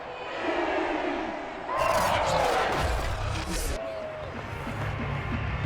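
Home crowd cheering in a Madden 22 football game between Washington and Carolina, a loud roaring swell of voices that rises midway and stays as a steady crowd din.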